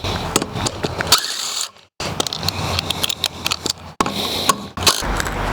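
A hand wrench clicks and ratchets on a car wheel's lug nuts during a tire rotation, with loud bursts of metallic ratcheting and scraping broken by two short pauses.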